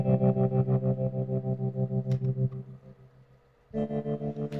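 A second guitar voicing panned hard joins the first, and the two layered parts pulse in a steady rhythmic tremolo with heavy effects. The sound thins briefly before the layered chords return.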